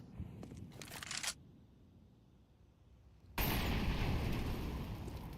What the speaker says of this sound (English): Nade gonna land deep and look to do damage.